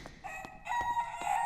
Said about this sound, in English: Oh, a chicken I hear?